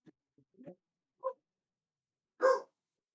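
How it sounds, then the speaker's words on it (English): A small dog gives a few short, soft barks and huffs, sparse and quiet, ending with one louder yap in otherwise silent surroundings. "Dog barking."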